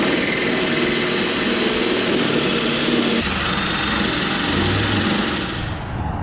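Power tool cutting out the pinch welds on a 2016 Chevy Silverado Z71 truck bed, a steady, loud, high-pitched whine running continuously and close up, with no talk.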